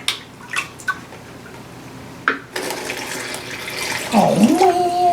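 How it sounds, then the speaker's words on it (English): Water poured into a blender jar holding scrap paper, starting with a few sharp clunks and clatters, then a steady close splashing pour that rises toward the end. "Add some water."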